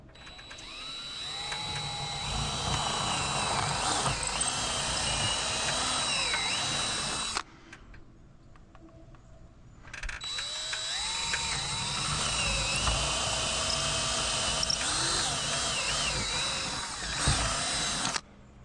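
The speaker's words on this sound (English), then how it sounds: "I'm using a 1/4 inch drill bit to drill these holes as deep as I can" A power drill with a 1/4 inch bit bores pilot holes into a wall for a mount, whining loudly in two long runs separated by a short pause.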